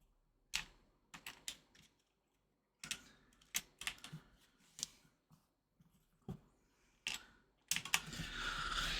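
Clicks from a freshly reassembled computer keyboard come in short bursts of typing with brief pauses, close and crisp, ending in a longer dense rattle of keys.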